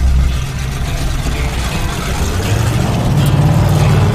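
A '71 Pontiac T-37 driving with its header mufflers dragging, a loud continuous engine drone with a rising pitch and a scraping rattle, close and alone without talk.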